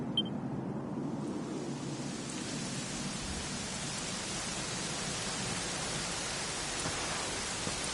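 Steady rainfall in a video game, a dense even hiss of drops on surfaces that holds throughout with a faint low rumble beneath, no voices.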